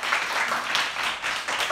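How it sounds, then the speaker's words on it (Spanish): A primary school class claps for a classmate in a quick, dense burst of small hands, steady and close for under two seconds without talk. "pedazo de aplauso a mi amigo Javi"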